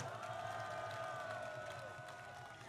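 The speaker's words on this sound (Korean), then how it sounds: "박수 한번 쳐주세요" Crowd at a political rally applauds and cheers, a dense continuous wash of clapping and voices, fairly distant and faint, holding steady throughout.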